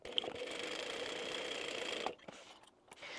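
A sewing machine stitches and backstitches a quilted fabric bag, a steady close mechanical whir for about two seconds, then stopping with a few faint handling clicks.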